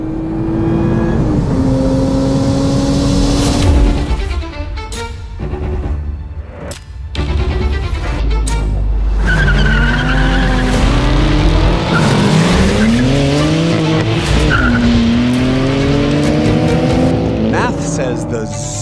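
Several drag cars, among them a Toyota Supra and a Ford Mustang Dark Horse, launch and accelerate hard with rising engine notes and gear shifts. Tires squeal and engines roar loudly throughout, with a voice speaking over parts of the run.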